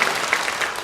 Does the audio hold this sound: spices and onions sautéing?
no